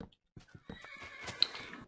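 A horse in Minecraft gives a clear, fairly close whinny after a few short snorts and hoof clops, the neigh rising and trembling before trailing off.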